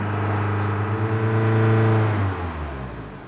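Honda Accord (2013-2017, CVT) engine held steady at elevated revs near 3000 RPM, a loud sustained drone with strong harmonics that drops away toward the end of the clip.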